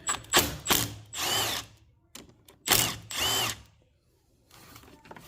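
A power tool whirs in several loud, close bursts with ratcheting clicks, loosening bolts while the engine comes out of a 2022 Honda Civic, with short quiet gaps between bursts.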